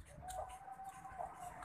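Chickens on a farm with cattle nearby, clucking softly and repeatedly in short nasal bursts at a low level against quiet background noise.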